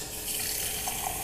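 Cold tap water runs steadily from a faucet into a measuring cup, a close, continuous splashing stream heard alone.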